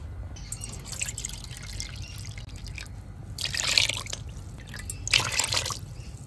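Water poured from a bowl into a gram flour and yogurt batter, a low steady trickle with two brighter splashing bursts as each bowlful goes in, close by and with no talk.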